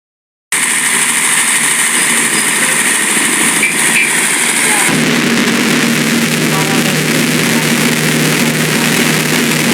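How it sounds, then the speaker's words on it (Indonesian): Road traffic noise, a continuous loud engine-like drone with a high hiss that shifts to a rougher, lower rumble halfway through. "Genset yang kedua adalah suara jalan raya."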